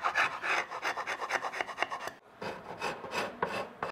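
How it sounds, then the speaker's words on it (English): Dried glue is scraped off a wooden cabinet crown moulding with a small red bar, giving quick rasping strokes in short bursts with a brief pause midway, close and fairly quiet. "So you wanna kinda give that a little bit of a scrape."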